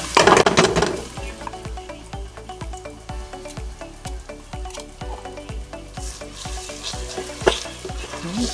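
Sauce sizzling and frying in oil in a pan while being stirred for a vegan eggplant parmigiana, with steady crackle, repeated soft scraping strokes and an occasional clink of a utensil against the pan.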